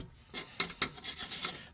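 A steel chisel scrapes and chips residue off a part on a 1997 Dodge Grand Caravan SE abandoned for over four years, giving a series of close, gritty rasping strokes with a few sharper hits and no talking.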